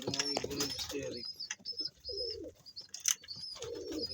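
Pigeons coo in low, rolling bursts, pausing between calls, with a few higher chirps and background bird sounds mixed in.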